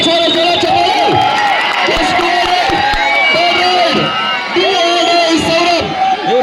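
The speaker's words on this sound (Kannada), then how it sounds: "ಅರೆ ಒಂದ್ಸಲ ಚಪ್ಪಾಳೆ ಕೊಡಿ ಪ್ರೇಕ್ಷಕರು" A kabaddi semi-final crowd, Alva's against Mumbai Port, cheering and shouting loudly and steadily with clapping mixed in, voices rising and falling throughout.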